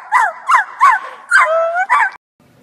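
A man mimics a dog with his voice: five quick, high yapping barks in an uneven rhythm, one drawn out into a longer whine, close and loud, then silence.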